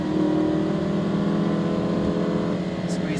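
A Lamborghini Huracan pulls hard down a race track straight, its engine a steady loud drone with dense harmonics that holds throughout, while an instructor's voice talks over it.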